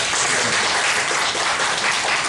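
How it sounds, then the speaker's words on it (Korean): Church congregation applause during a service, a steady, dense burst of clapping filling the whole short stretch at even loudness. "박수."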